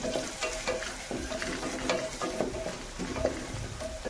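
Onion sautéing with turmeric in a pan, a steady low sizzle broken by repeated scraping stirs of a spatula at a close, moderate level, with no voices.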